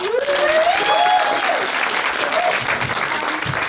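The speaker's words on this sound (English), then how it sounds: "A round of applause for them." An audience applauds sponsors before a student production of the play Menaechmi, a full, steady wave of clapping with a whoop or cheer rising above it near the start.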